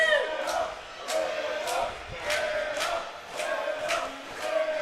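Crowd at an OJLL junior lacrosse playoff game in Mimico, Orangeville Northmen against the Mimico Mountaineers, cheering and shouting in rising swells with sharp whoops, a steady roar across the arena.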